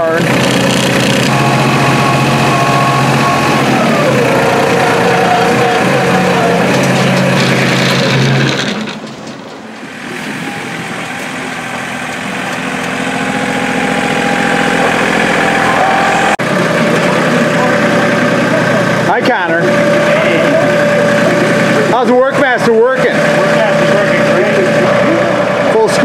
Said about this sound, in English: Really handy little tractor.